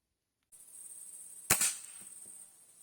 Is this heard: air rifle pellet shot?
yes